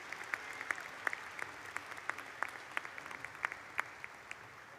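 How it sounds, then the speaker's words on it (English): A distant crowd at a 2023 graduation ceremony applauds graduates' family members, a soft wash of many hands with sharper individual claps popping out irregularly. "give your family members a round of applause for their love and support"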